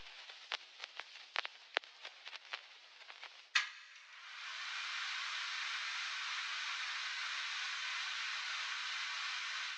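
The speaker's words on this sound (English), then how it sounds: "I've got some of this like kind of like vinyl hiss playing throughout parts of the sample" Scattered vinyl record crackles and pops sit over a soft hiss, then a sharp click gives way to a steady, even hiss that continues to the end.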